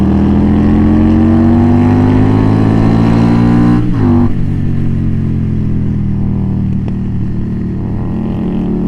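An Indian Scout Bobber motorcycle is ridden through Oak Glen, its engine droning loud and close with rising and falling pitch as it accelerates, briefly drops and then settles into a steady cruise.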